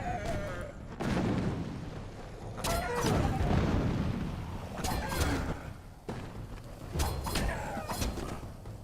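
Bombs exploding in the video game Kingdoms of Amalur, with four heavy booming bursts spread across the clip, each followed by rumbling decay.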